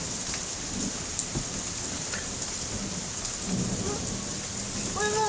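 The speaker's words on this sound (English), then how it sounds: "there's a lightning storm" A thunderstorm in Canada pours steady rain while low thunder rumbles underneath, with a few sharp drip and splash accents and no speech.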